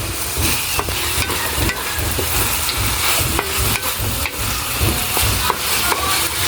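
Chicken feet adobo with whole peppercorns stirred as it fries in a pan, a loud continuous sizzle with repeated scraping knocks of the spoon, close and alone.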